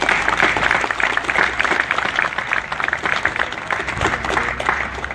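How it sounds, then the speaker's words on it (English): Applause from a crowd at a veterans memorial ceremony honouring the Marines of the Beirut barracks, sustained mid-level clapping with uneven bursts and some background voices. "we all owe him a very special round of applause for that"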